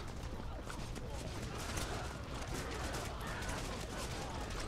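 Basic archers loose a volley of arrows during a one-on-one siege battle in Total War Battles: a dense, continuous clatter of many shots at once, loud and sustained throughout, with battle noise and voices mixed in.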